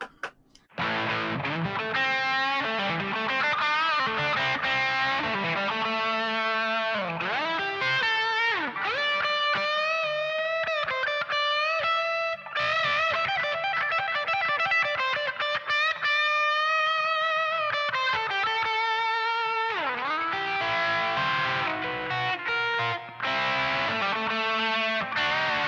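A Donner DTC-100 Telecaster-style electric guitar played steadily through effects with some distortion, sustained notes and chord swells filling the passage, loud and continuous with brief dips and no talking.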